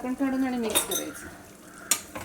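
Chicken gravy stirred in a pot, a utensil scraping and clinking against the metal in a few short strokes, close up, with a brief sharp clatter near the end.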